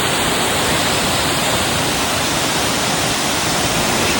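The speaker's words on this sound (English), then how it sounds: "It's a waterfall." Waterfall on the Annapurna trek, a steady, loud broadband roar of falling water close by, unbroken for the whole stretch with no voices.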